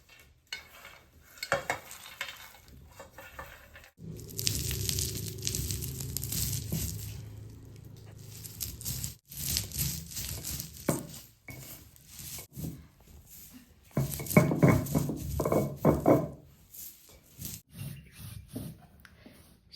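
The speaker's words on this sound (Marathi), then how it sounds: "तर इथं पाटा घेतलाय मी, पाट्यावरती वाटण बनवून घ्यायचंय. सगळ्यात पहिलं आपल्याला शेंगदाणे बारीक करून घ्यायचे." Peanuts are ground by hand on a stone pata, producing gritty scraping and rubbing in uneven bursts with pauses between strokes, close and fairly quiet.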